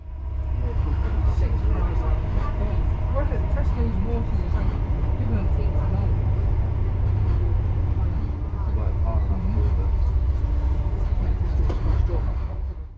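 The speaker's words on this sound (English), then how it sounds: "As we depart Plymouth, we join the Cornish main line, which will take us right through to Penzance." An HST express train runs along the Cornish main line after leaving Plymouth, giving a steady, loud low rumble of wheels and engine throughout, with indistinct voices faintly mixed in.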